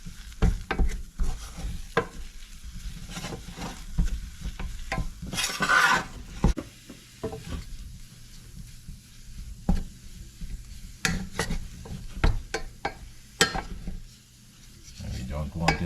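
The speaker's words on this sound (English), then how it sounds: "Once this flour is all stirred in here, we're going to turn the heat back on, and we'll cook this for about 4 to 5 minutes." A spoon stirs thick flour dough in a cooking pot for cheese puffs, with uneven scraping, knocking and clattering against the pot at close range, sometimes dropping to quiet gaps and swelling to a brief hissy burst.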